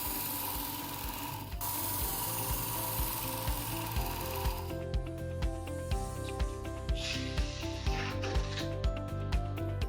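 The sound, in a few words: knife drawn through Work Sharp belt sharpener, X22 medium belt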